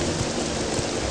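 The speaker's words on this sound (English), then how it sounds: "it's thunder and lightning, rain, storm" Steady hiss of rain in a video game storm, a dense even downpour without distinct thunder claps, heard alone and close.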